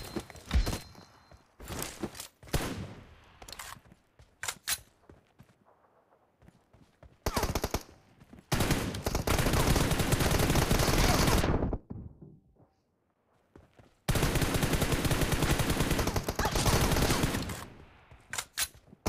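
Automatic gunfire from a 1v1 team deathmatch in a shooter video game: short scattered bursts early on, then two long, loud, sustained volleys of rapid machine-gun fire separated by a brief quiet gap.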